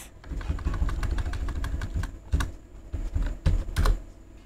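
Keys clatter on a computer keyboard as CLS is typed into a Command Prompt window, a run of quick sharp clicks with a few louder strikes near the end, close with no talk.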